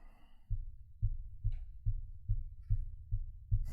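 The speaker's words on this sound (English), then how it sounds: "heartbeat." A heartbeat sound effect thumps in a steady, low double-pulse rhythm, about eight beats in a few seconds, close and prominent against near silence with faint background noise between beats.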